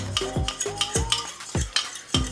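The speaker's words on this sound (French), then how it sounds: "Vous refaites un petit coup de fourchette au fond pour décoller les petits condiments qui se sont déposés au fond" A fork stirs a milk and cornstarch mixture in a saucepan with a quick series of scraping, clinking strokes against the pan bottom, close and fairly clear, with no talking.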